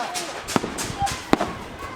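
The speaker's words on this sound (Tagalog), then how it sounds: "Searching for fireworks." New Year fireworks burst in the distance, with two sharp faint bangs amid a low background rumble and scattered crackles.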